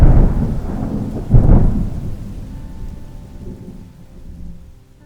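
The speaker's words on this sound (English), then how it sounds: "something like this thunderstorm rolling through here" A thunderstorm rolls through: deep rumbling thunder with a louder crack-like swell early on, over steady rain, then fading to a softer rumble and rain patter.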